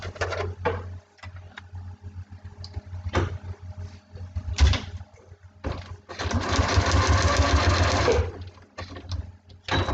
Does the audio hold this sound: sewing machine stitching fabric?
yes